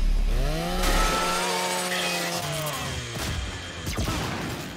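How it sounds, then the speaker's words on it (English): The chainsaw bayonet on a Lancer rifle in Gears of War 5 revs up with a rising, whining motor pitch, loud and close, then a few sharp impact bursts follow. "Just use your Lancer's chainsaw"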